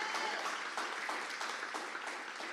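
A church congregation claps together in sustained, steady applause during a sermon, dense and fairly loud throughout with no voice on top.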